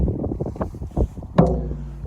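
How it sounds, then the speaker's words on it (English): Wind gusts buffet an outdoor microphone among the standing stones at Avebury, producing close, uneven low rumbles and thumps in bursts, with a sharper knock midway. "Excuse the noise, but of course the wind is beautiful."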